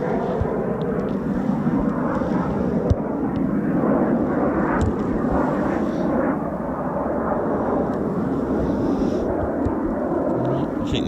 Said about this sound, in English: It's the last 2 Typhoons for us for the night.